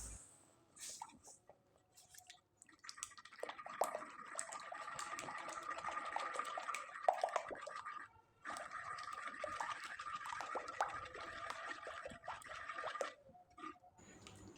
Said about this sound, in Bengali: সমান পরিমাণে জল ব্যবহার করে খুব ভালোভাবে মিশিয়ে নিতে হবে